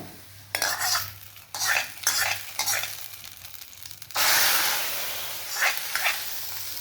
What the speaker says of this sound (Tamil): இந்த சமயத்தில் நம்ம கொட்டிடலாம் தாளித்து